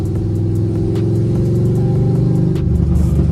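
A loud Chevrolet Camaro SS LS3 V8 with long-tube open headers rumbles continuously with a deep, raspy exhaust tone, idling and slightly revving throughout.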